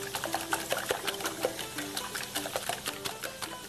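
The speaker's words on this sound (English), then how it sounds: "I'm just going to use a whisk to basically just whisk them together." Eggs whisked by hand in a bowl with a metal whisk, a steady rapid ticking and clattering rhythm that runs close and fairly quiet throughout, with no talking.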